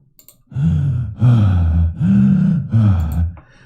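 Looping breathing sound effect played as an audio file in Unreal: four heavy, close breaths in steady rhythm, each a loud raspy inhale or exhale lasting under a second, with brief gaps between and no talking.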